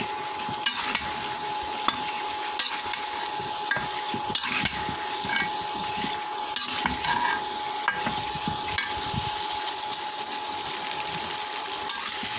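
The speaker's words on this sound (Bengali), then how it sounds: "আলু দিয়ে সুন্দর করে কষাবো" Prawns sautéed with drumstick stalks and potatoes in a pan, a continuous loud sizzle broken by repeated scraping and stirring strokes from a spatula, no talking.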